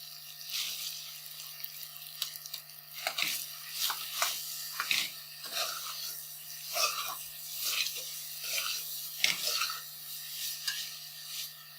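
Ground chicken keema stirred in a pan with fried onions, repeated spatula scrapes and clinks over a quiet sizzle, close and steady with no talking.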